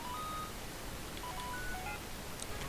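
A ringing phone tone from the Pokemon White 2 video game, faint repeated electronic beeps over a steady background hiss.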